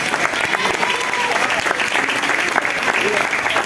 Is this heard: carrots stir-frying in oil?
no